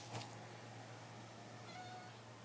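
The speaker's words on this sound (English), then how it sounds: "you're so cute when you do your little Oreo meow" A cat named Oreo gives a short, faint meow near the start, followed by a soft tonal call later, over a steady low hum in a quiet indoor room.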